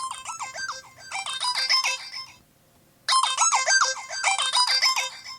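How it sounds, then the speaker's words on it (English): The Bumblebee ringtone plays on a Samsung Windows Phone, a bright, loud repeating melodic pattern of quick chiming notes, pausing briefly before starting again. "Found the ringtones. Oh, there's one called Bumblebee."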